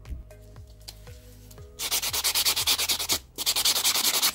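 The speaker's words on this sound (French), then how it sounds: "on passe un petit coup de bloc polissoir" Polishing block buffed across a fingernail during a nail technician's prep, starting as soft scattered taps then switching to a steady, close rhythmic back-and-forth rasp that pauses briefly and resumes.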